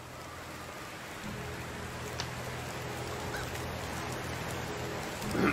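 Steady rain falling in the medieval village-building game Medieval Dynasty, a constant hiss of drops that swells slightly near the end, with a few faint knocks and a distant bird-like call underneath.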